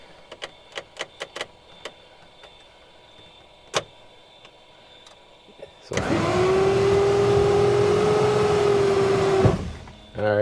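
Aircraft landing gear retracting: a few scattered clicks and knocks, then a steady electric-hydraulic motor whine starts abruptly, holds an even pitch for about three and a half seconds, and cuts off.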